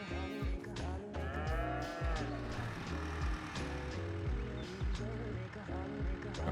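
Cows in the Farming Simulator 22 video game moo loudly and repeatedly in a dense overlapping herd chorus, over a steady hum of game noise.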